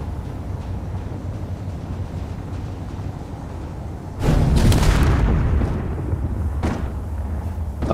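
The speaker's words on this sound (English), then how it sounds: "there you go, finally detonated" A sudden loud explosion detonates in Space Engineers, a deep rumbling blast that bursts out of a quiet mechanical hum, decays over about a second, and is followed by a fainter secondary boom.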